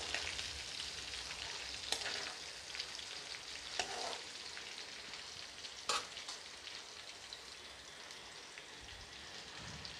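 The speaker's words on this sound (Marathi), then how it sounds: "थोडी मिरच्या होऊ देते आहे" Green chilies sizzle in hot oil in a pan, a dense, steady crackle with occasional sharper pops and clinks, close and continuous with no voices.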